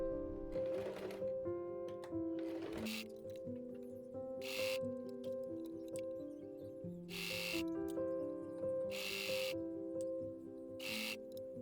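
A domestic sewing machine stitches a midi-length dress in quick bursts: short mechanical whirs and clicks stop and restart at uneven intervals, close by and fairly quiet, with no voices.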